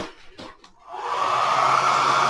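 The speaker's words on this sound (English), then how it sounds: "So I take my hairdryer, put it on a low setting," A hair dryer on its low setting switches on and blows with a steady, moderate whoosh, drying a willow and tissue paper craft, running continuously after a brief soft rustle.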